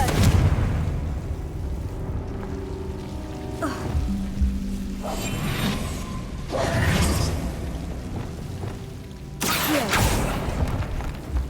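A Confringo fire blast spell explodes in Hogwarts Legacy, heard as a series of booming, whooshing bursts with mechanical rumbling, separated by brief quieter gaps, with a final loud blast near the end.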